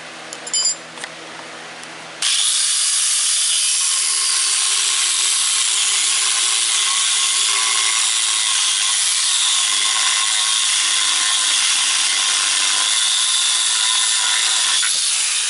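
A power tool cutting a part during assembly of a crane mast and jib for a Woodmizer LT15 sawmill, starting abruptly after faint knocks and then whining loudly and steadily without a break.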